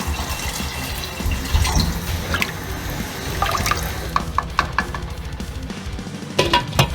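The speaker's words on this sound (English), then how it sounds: "Add some water." Water pours into a pot of slow-cooking lasagne tomato sauce, a close splashing, gurgling fill with small drips and clinks, no talk.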